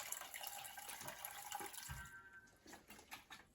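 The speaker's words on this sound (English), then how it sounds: "pour the stock off." Bone broth stock is poured off from a pot, a steady faint splashing trickle of liquid with a few heavier gurgles as it runs out.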